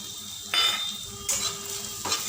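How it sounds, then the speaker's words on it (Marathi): Ridge gourd being sautéed in oil with onion-garlic masala, cumin, coriander powder, chili, turmeric and salt. Three distinct spatula scrapes and stirs sound close over a faint, constant sizzle. "आणि पुन्हा परतायचं तेल सुटेपर्यंत"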